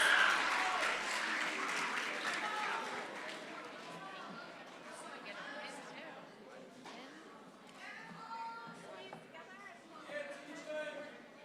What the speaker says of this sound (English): So let's give a big round of applause to our outstanding scholars.